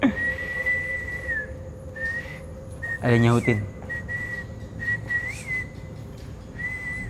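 A person whistles a few sustained tones against a noisy background, with a brief burst of a voice partway through.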